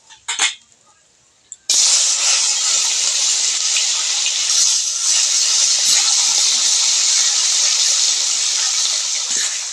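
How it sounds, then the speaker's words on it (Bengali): Fish frying in hot oil in a pan: after a few faint clinks and a near-silent moment, a loud, steady hissing sizzle bursts in and keeps going close up. "বাকি মাছগুলো একইভাবে ভেজে নেব।"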